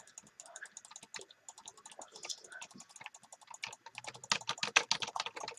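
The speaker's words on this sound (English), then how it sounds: "It's probably loud because like I'm clicking so rapidly." Rapid, continuous clicking of a computer keyboard and mouse during gaming, a dense, close patter of keystrokes that grows louder and busier toward the end.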